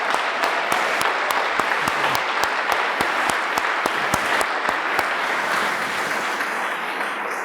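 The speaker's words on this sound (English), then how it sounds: "how about one more round of applause for our William Penn Senior High School?" Audience applause for William Penn Senior High School at a mayor's State of the City Address, a dense sustained crowd clapping with sharper individual claps standing out, tapering slightly toward the end.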